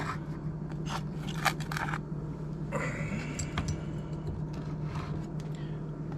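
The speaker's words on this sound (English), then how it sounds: "So if we pull this copper off that we can now sell from the chips" Copper pins pulled and snipped off pinned CPU chips, giving sparse, close crunching snaps and scrapes in small clusters over a low steady hum, with no speech.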